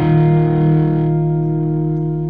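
A single electric guitar chord with only mild distortion rings out and sustains, fading slowly, while a song is being taught.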